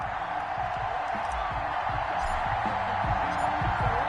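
A home stadium crowd at an NFL game between the Miami Dolphins and the Kansas City Chiefs, roaring as a steady, dense wash of cheering, with a commentator's voice under it.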